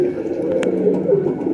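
A pigeon coos up close, low throaty warbling rolling continuously over a faint background, with a brief sharp click partway through.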